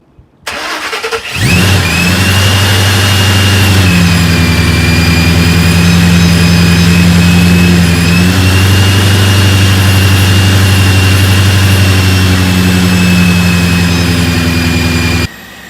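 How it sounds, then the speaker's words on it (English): A loud modified car engine cranks and fires up, then settles into a rough, throaty idle that rumbles steadily at close range. "Let's actually start this bitch up and see how she sounds."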